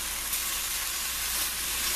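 Chicken and bacon sautéing in a pan over a high flame, giving a steady, even sizzle and hiss that carries on without a break, close and moderately loud, with no voices.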